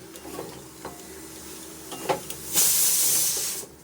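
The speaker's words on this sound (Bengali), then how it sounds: "একদিকে ভাত হচ্ছে, সিটি হলো" A pressure cooker on the stove cooking rice, with mutton frying alongside: a few soft clunks and stirring sounds, then a loud burst of hissing steam that holds for about a second before stopping.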